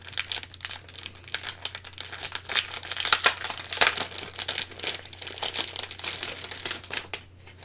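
Crinkly plastic packaging on an Ornate Flourish cut-and-emboss folder set is handled and opened, giving a steady close run of rustles and crackles with a few sharper tears over a low hum, and no talk.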